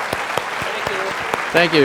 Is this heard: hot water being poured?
no